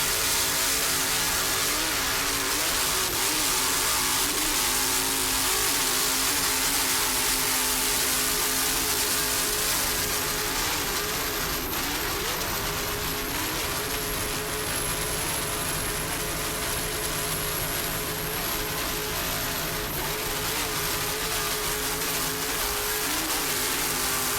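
A racing powerboat powered by twin 1,400-horsepower McLaren inboard engines with Mercury drives roars steadily off Point Pleasant Beach during an offshore powerboat race, a constant loud engine drone throughout.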